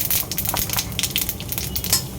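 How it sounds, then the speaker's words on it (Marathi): Mustard seeds and cumin sputter in hot oil for a jackfruit curry, giving a dense, close, continuous crackle of rapid pops with no voices. "एक साधारण 2 चमचे मोहरी, 1 चमचा जिरं, तडतडले"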